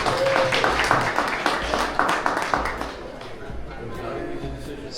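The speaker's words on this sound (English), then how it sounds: "Give her a round of applause." Crowd applause at a tattoo expo in Norfolk rises as scattered, fairly close claps with murmuring chatter, loudest early and easing off into background crowd noise.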